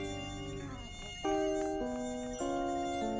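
A mosquito buzzes close by with a thin, whining drone whose pitch steps up and down several times over a few seconds, with no voices.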